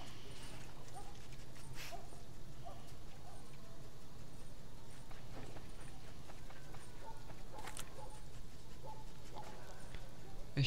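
A dog in the video game Splinter Cell Blacklist barks now and then against a steady game ambience. The barks are faint to moderate and spread through the clip, and someone talks under them.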